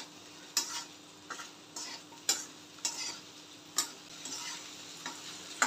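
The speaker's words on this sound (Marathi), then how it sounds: "पुन्हा 2 ते 3 मिनिटं चांगली परतायची" Okra being stir-fried in a pan for sabzi, a soft background sizzle punctuated by regular spatula scrapes against the pan roughly every second, close and without any talking.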